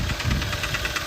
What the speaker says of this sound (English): Sounds like a rod.